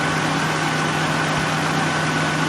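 A Nissan VG33E V6 idles at low rpm, warming up, giving a steady, even hum with a constant low drone and no variation in pace, close and unaccompanied by talk.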